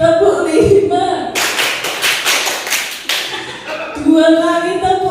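A group at a school workshop claps a five-beat rhythm in unison, sharp evenly spaced claps between stretches of talking before and after.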